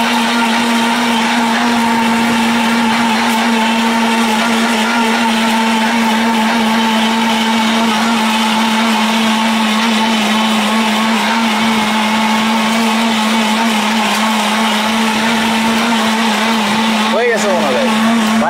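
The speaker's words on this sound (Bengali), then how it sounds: "এটা খুব বেস্ট, একদম বেস্ট একটা ব্লেন্ডার" An electric blender runs at full speed with a loud, steady motor whine and hum that holds unbroken for the whole stretch, shifting briefly near the end.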